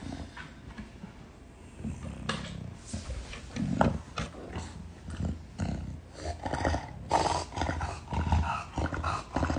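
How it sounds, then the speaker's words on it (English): A dog named as part of a tenth-birthday celebration, heard as scattered grunts, snorts and rough vocal bursts close by over a muffled indoor background, with no speech. "And this is Demon Dog."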